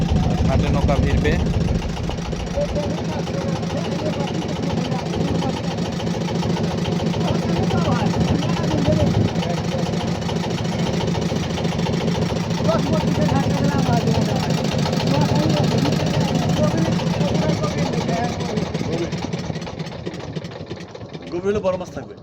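A boat engine hums steadily as it nears a landing on the Padma river at Sarsia char, Rajshahi, a low continuous drone throughout that fades slightly at the end, with voices talking over it.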